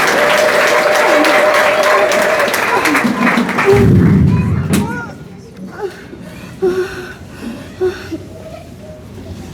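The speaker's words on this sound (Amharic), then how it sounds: "አጨብጭቡለት እስቲ።" A church congregation bursts into loud, dense applause with cheers for several seconds during a deliverance service, then it drops to a quieter room with scattered thumps and a few voices.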